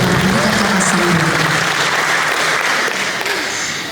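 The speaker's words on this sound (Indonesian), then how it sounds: "Kita berikan tepuk tangan untuk Kapolri kata-kata sambutan." An audience breaks into loud, sustained applause after a police chief's welcome speech at a church Valentine event, a dense, even patter of many hands that fades slightly toward the end, with faint voices underneath.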